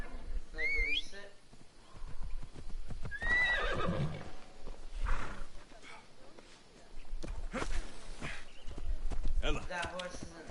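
A horse whinnies several times over galloping hoofbeats in Assassin's Creed Odyssey, with game effects and a voice talking throughout.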